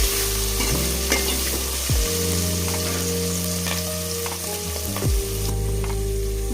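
Onions frying in oil for a dried prawn tomato curry sizzle steadily and loudly, with a stirring spoon scraping the pan in a few slow strokes.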